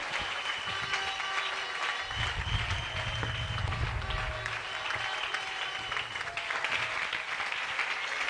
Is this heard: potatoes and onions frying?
no